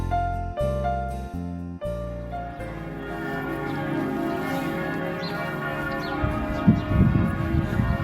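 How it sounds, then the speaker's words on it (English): Church bells of the Cathedral of St. Nicholas in Ljubljana ring out loud and close, first as a few separate strikes, then as a sustained, overlapping peal with a rich metallic hum. "You don't have to be in Ljubljana on a Sunday to experience the bells of the Cathedral of St. Nicholas."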